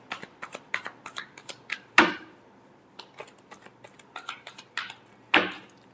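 Tarot cards shuffled by hand in a series of crisp riffling bursts, close and clear, with one louder riffle near the middle and another near the end.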